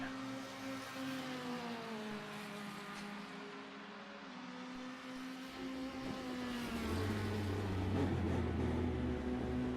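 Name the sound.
race car engine in F3 racing video game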